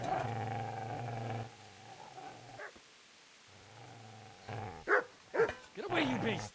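A dog in the video game Kingdom Come: Deliverance growls with a low sustained rumble, then breaks into several sharp close barks toward the end.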